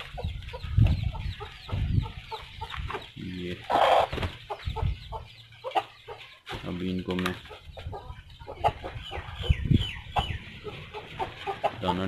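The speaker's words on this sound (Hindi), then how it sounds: "ये उसके साथ का एक और मुर्गा जो दोनों आपस में लड़े हैं" Roosters cluck and squawk close by in bursts, with someone talking intermittently over the birds.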